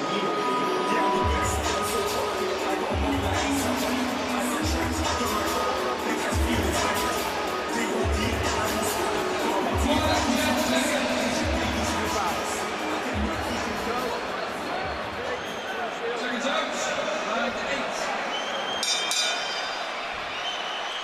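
A vast indoor crowd of 78,000 fills Principality Stadium in Cardiff, Wales, at a heavyweight boxing match, a steady roar and babble of voices with occasional clinks and swells throughout.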